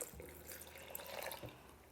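A cup of water splashes and trickles into a blender jar holding nutritional yeast and other sauce ingredients, a short, faint liquid pour with no talking.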